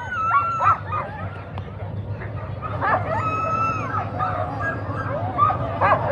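Eager sled dogs at an Anchorage street race yip, whine and bark in a busy, overlapping chorus, some cries drawn out almost like howls, close and lively over a murmur of people talking outdoors.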